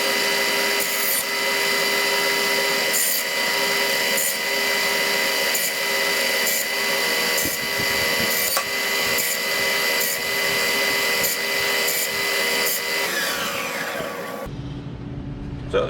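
A power tool cuts 1-inch wood pieces for a Sambro lighthouse model, running as a loud steady whine with regular repeated bursts as each piece is cut, then winding down and stopping near the end.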